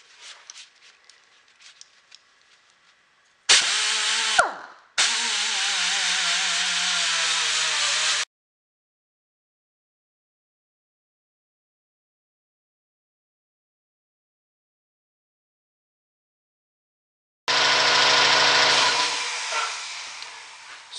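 A power tool fitted with a scotch pad polishes an axe head, whirring loudly in two bursts of several seconds each, split by a long stretch of silence and preceded by faint clattering handling.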